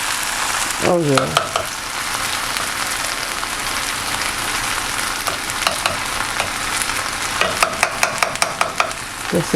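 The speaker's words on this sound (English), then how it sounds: "you can hear that they are frying because the water has absorbed" Continuous loud sizzling and crackling of bonefish and potatoes frying in a pan, with a few stirring scrapes and a brief voice near the start.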